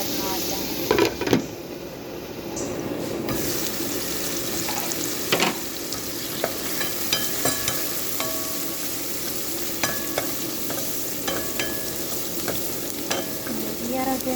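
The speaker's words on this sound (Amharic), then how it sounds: "ግን በደንብ መቁላላት አለብን ማለት ነው።" Ingredients for a macaroni pink sauce sauté in a pan with a steady sizzle and frying crackle, broken by occasional stirring scrapes and clicks of a utensil against the pan throughout.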